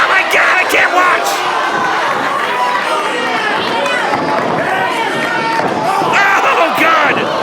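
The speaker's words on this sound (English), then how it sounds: "the sick, sadistic crowd here at the Barre Elks Lodge are cheering for this" A wrestling crowd at the Barre Elks Lodge roars and cheers continuously during an indie match, a dense, loud wall of voices and shouts that stays steady from start to finish.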